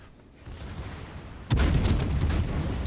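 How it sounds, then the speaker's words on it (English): Secondary battery guns on a warship in World of Warships, a rapid run of sharp booming blasts erupting over a quieter rumble, several loud close shots clustered together in the latter half. "Secondary is going off."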